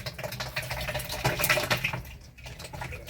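Thick slurry pouring into a home biogas digester fed with food waste, a steady wet splashing and gurgling flow that swells slightly midway and continues without any voices.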